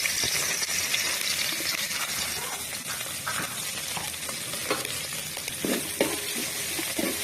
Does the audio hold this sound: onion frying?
yes